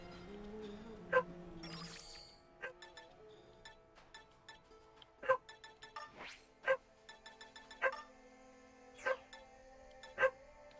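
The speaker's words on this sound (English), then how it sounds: "It's the first time the dog is barking like this." A dog barks repeatedly in isolated, sharp single barks at irregular intervals, roughly a dozen over the span, heard at a modest distance with faint clinks in between.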